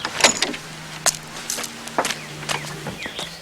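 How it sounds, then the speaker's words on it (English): A door rattles and clunks as someone fumbles with it, several sharp knocks and latch clicks over a low steady hum, with a few scuffing steps nearby. "he still doesn't know how to open this door"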